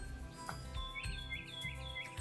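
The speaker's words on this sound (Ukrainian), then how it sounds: "хто прилетів до нас на дерево та сів на його гілочки. Це пташечка" A bird chirps on a tree in an animated children's learning cartoon, quick repeated high tweets in short bursts over soft background music, faint and continuous.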